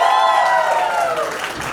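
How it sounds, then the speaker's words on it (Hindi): Guests at a sangeet ceremony break into applause and cheering, a brief dense burst of clapping that gradually thins, with a voice heard over it. "इन दोनों के लिए प्लीज जोर से तालियां बजाइए प्लीज।"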